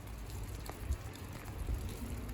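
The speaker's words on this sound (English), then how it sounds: "It's nice getting out of the rain." Rain outside Provan Hall in Glasgow, a soft steady patter with faint scattered drops over low rumbling background noise, heard from indoors.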